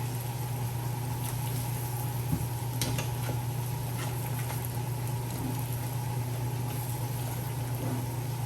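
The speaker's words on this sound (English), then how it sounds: "So I'm just gonna leave it to fry and then flip it." Fish frying in a pan for a Jamaican-style steamed fish and bammy dish, a steady close sizzle and crackle with a constant low hum underneath, no talking.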